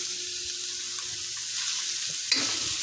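Meat and santol simmer in coconut milk for Filipino ginataang santol, a low steady bubbling sizzle with soft scraping of a spoon through the pot, ending in a brighter clink and splash near the end.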